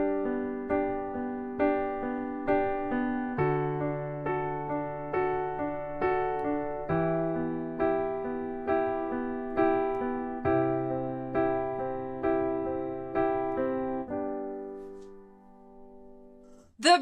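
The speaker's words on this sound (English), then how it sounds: "The broken chord pattern is one of the most popular one you can have out there." Solo piano playing a pop-rock broken chord pattern, arpeggiated notes repeating in a steady rhythm over changing bass chords, close and clear, ending with a brief knock.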